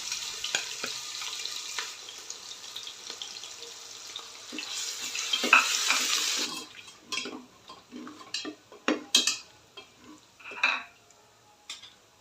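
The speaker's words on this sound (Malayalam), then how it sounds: "ഇനി ഇഞ്ചി, വെളുത്തുള്ളി, പച്ചമുളക് അരച്ചത് ചേർത്ത് ഗോൾഡൻ കളർ ആവുന്നത് വരെ ഇളക്കുക." Ginger, garlic and green chilli paste stirred in a pan for undhiyu gives a steady hissing sizzle for the first half, then scattered metallic clinks and scrapes of a spoon against the pan, with no talking.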